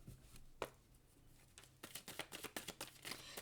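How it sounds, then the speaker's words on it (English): Tarot cards being shuffled in a dense run of quick riffling, flicking bursts that thicken in the second half, with one sharp tap early on, fairly close and moderately quiet. "the cards feel a little bit clunky when I'm shuffling them right now"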